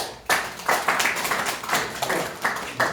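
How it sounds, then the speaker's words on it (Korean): An audience at an agricultural seminar on microbial farming claps in sharp, evenly spaced bursts, about two per second, close and fairly loud. "다시 한번 박수 해주십시오."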